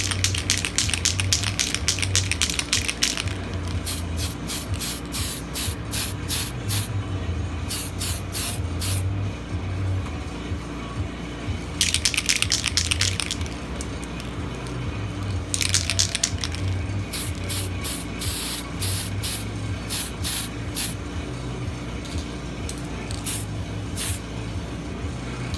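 Black paint sprayed from an aerosol can onto a clear Lexan RC car body, heard as a run of short hissing bursts followed by longer sustained sprays, close and loud with pauses between passes.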